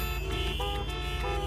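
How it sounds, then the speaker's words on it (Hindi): Car horns honk at a traffic signal where the light has not yet changed, a steady layer of overlapping tonal blasts held loud and unbroken throughout. "सिग्नल अभी ऑन नहीं हुआ और गाड़ियों के हॉर्न पे हॉर्न बज रहे हैं"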